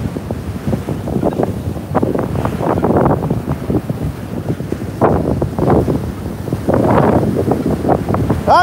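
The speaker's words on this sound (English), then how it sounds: "I do not fear the wind." Strong gusting wind buffets the microphone on a sandy beach in New York City during a storm, a loud, rough roar that swells and fades in heavy surges.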